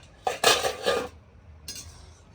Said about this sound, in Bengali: চাপাটা তুলে দেখবো আমাদের লাউ সিদ্ধ হয়েছে কিনা